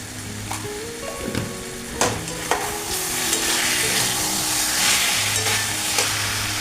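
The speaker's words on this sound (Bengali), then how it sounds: "মোটামুটি কষানো একটু হয়ে গেছে। এবারে আমি পেঁয়াজে অল্প একটু লবণ দিয়েছিলাম" Chicken and onions sauté in a pan for a light chicken curry with potato, a steady sizzle and frying hiss running throughout while a utensil scrapes and stirs in several distinct strokes; no talking.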